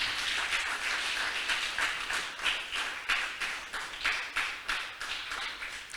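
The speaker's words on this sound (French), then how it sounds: "demandez-nous pour nous applaudir encore plus fort." Church congregation applauding a pastor's talk, starting as a dense wash of clapping that settles into rhythmic, unison claps in a steady beat, moderately loud with no speech.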